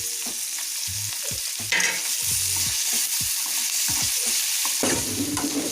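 Paneer goes into a hot pan with capsicum and green chillies for a chicken roll filling, giving a steady sizzle of frying with repeated scraping strokes of a spatula stirring the pieces, close and clear with no talk.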